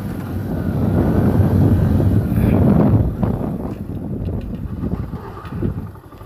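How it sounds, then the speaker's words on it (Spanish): A motorcycle engine revs up loudly with strong wind rush on a downhill, then the roar drops away under emergency braking, leaving rumbling and rattling. "voy a acelerar la motocicleta y vamos a frenar"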